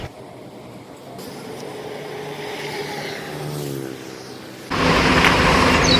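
Vehicles passing on a highway, with a broad engine and tyre roar that swells as one car approaches and then a loud close whoosh near the end, and no voices over it.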